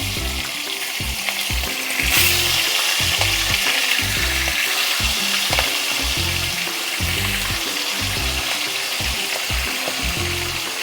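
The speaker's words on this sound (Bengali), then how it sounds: "তেল গরম হয়ে গেছে এবার আমি মাছগুলোকে একটু ছেড়ে দিলাম" Giant river prawns hit hot oil and ghee in a pan, giving a loud, steady sizzle with rhythmic low thumps and scraping as they fry, no voices.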